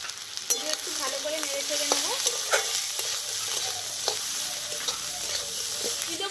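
Bori, small lentil dumplings made from biulir dal, frying in hot oil in a pan, with a steady close sizzle and crackle broken by scraping stirs, no talk.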